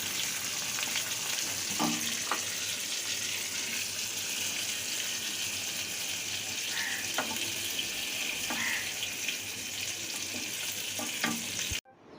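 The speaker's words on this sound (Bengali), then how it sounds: "মাছগুলো আমার ভাজা হয়ে গিয়েছে এইবার আমি তুলে নেব হালকা করে ভেজে নিলাম" Pieces of hilsa fish lightly frying in oil, giving a continuous even sizzle with scattered faint clicks and pops, ending in a sharp clatter.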